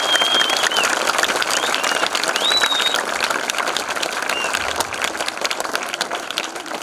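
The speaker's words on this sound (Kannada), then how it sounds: "ಅಂತ ಅದ್ಭುತ ಅಭಿನಯ ಮಾಡಿದಂಥ ಈ ಮಕ್ಕಳಿಗೆ ಒಂದ್ಸಾರಿ ಜೋರಾಗಿ ಚಪ್ಪಾಳೆಯನ್ನು ನಾವು ತಗೊಂಡು" Loud, sustained applause from an audience after a children's drama performance about the life of a police officer. Dense clapping fills the hall with crowd noise, while a few high whistles cut through the clapping.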